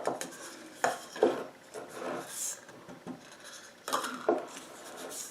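Cajun seasoning spices are tipped and spooned into a small bowl: scattered clinks, taps and light rustling scrapes in short bursts, fairly close and moderately quiet.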